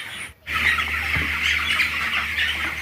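Chicks about 25 to 30 days old crowd a coop in winter, their dense peeping and squawking merging into a steady, close chorus after a brief quiet start, with no voices.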